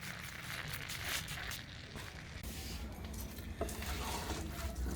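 Grated carrot halwa with sugar, made without ghee or milk, being stirred and roasted in a pan, giving a steady soft sizzle with continuous scraping and stirring, faint and close, no talk.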